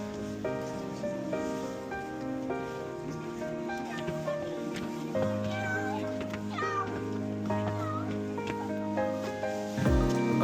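A cat meows repeatedly on the Great Wall of China, close and clear, its calls rising over a steady bed of background music with a soft patter like rain.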